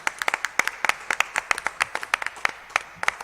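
Audience applause at a Sri Lanka women's cricket team sponsor and jersey launch press event, a small group clapping in quick irregular bursts, close and crisp throughout.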